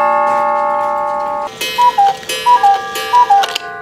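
Restored clocks fill a clock shop in Mercer, Pennsylvania, with steady ticking, then a brighter mechanism chimes a repeating two-note pattern three times, close and clear, with no talking.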